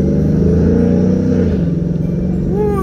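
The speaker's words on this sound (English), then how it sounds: "We're gonna ride this in sport mode." A 2011 Ford Mustang GT driven in sport mode gives a loud, deep engine rumble with rising and falling revs heard from inside the car, and a brief higher whine near the end.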